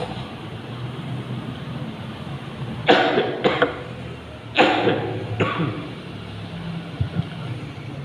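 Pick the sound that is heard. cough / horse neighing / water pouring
cough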